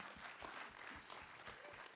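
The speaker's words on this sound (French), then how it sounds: "Oui, vous pouvez applaudir." Audience applause at a film premiere screening, a steady wash of many hands clapping at close range, sustained throughout without letting up.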